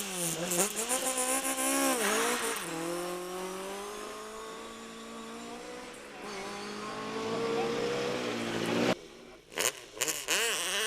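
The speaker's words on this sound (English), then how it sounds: "Followed by rally legend Dai Llewellyn in the first of the Braces bred Mark II Escort" A Ford Mark II Escort rally car races past on a rally stage, its engine climbing through loud revving gear changes as it nears and then fades, with an abrupt cut near the end.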